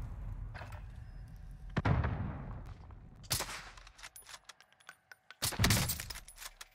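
Stoner 63 light machine gun fire in Call of Duty Warzone: loud bursts and single cracks with echoing tails and short silent gaps, closing on a heavy, sustained volley.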